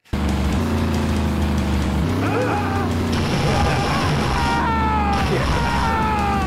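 A car crash in the 1990s video game Carmageddon brings loud engine roar, impacts and bursts of electronic game sound effects, with a voice shouting briefly.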